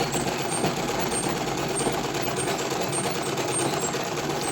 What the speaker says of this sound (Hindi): ये हम नीचे वाले पार्ट को भी इक्वल करके यहाँ से इसको स्टिच कर लेंगे